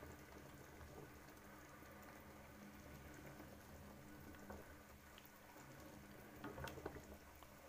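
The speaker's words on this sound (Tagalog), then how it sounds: "sinalang ko na po ang spaghetti" Spaghetti, 250 grams, boiling in a pot of water on a home stove, a steady low bubbling and hiss with faint clinks near the end, no talking.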